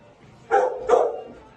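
Two short, yappy barks from a Labrador puppy, close by, spaced about half a second apart with a faint background hum.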